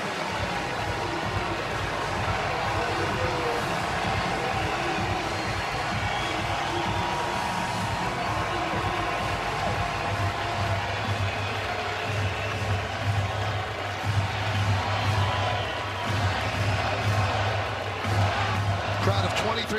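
Steady stadium crowd noise from about 23,000 fans at a Yankees–Orioles baseball game fills the whole stretch as a dense, even wash, with a low rumbling hum underneath and small swells late on.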